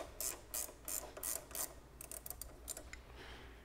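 Wrench loosening the main bolt of a twine disc holder on a Bale Baron baler, a series of close, sharp ratcheting clicks in short bursts, fairly faint with no talking.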